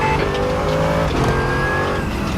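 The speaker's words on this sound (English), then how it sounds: "Let's pop it into first gear, get ready to leave the pits." A Mercedes AMG GT3 race car in the RaceRoom racing game accelerates out of the pits, its engine droning loud and close with rising revs and gear changes over a steady rumble.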